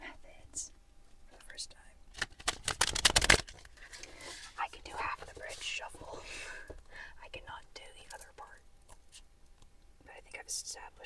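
A crystal affirmations card deck is shuffled by hand, giving a burst of quick papery riffling and flicking amid soft close whispering and small rustles.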